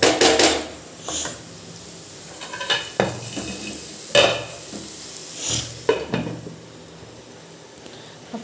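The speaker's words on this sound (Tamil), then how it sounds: "போட்டுட்டு நம்ம நல்லா வதக்க போகிறோம்" Sautéing in a pan, with repeated spatula scrapes and metallic clanks against the pan over a low background sizzle, strokes coming in irregular bursts every second or so.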